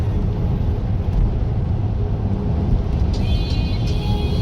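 A car drives along with a steady, loud low rumble of engine and road noise heard from inside the cabin, with faint higher rattles toward the end.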